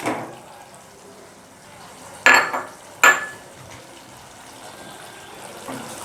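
Boiled penne pasta is stirred into a thickened sauce in a pan, with two sharp clatters of a utensil against the pan and soft wet stirring in a quiet kitchen, with no talk.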